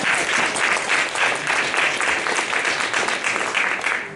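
A crowd claps continuously, a dense, even wash of applause that holds steady for several seconds without voices.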